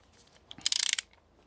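A torque wrench ratchets on Tesla wheel bolts, giving a quick run of about eight crisp metallic clicks, brief and fairly quiet, with no talk.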